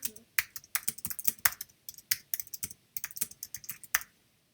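Rapid keystrokes clatter on a computer keyboard in irregular bursts while text is entered, close and crisp, with brief pauses between runs and no talking.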